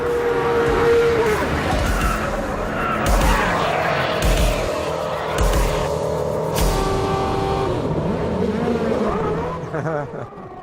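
An F1 car and a road car, running side by side at 100 mph, brake hard together at a line of cones, engine noise dropping away as tyres scrub, with a voice talking over part of it.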